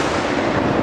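A traditional ceremonial mortar fired at a church festival in Kozjak gives one loud, dense, sustained blast that fills the whole short moment, close by and with no voices over it.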